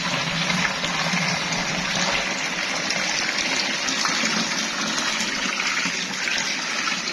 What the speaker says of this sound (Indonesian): Air terjun.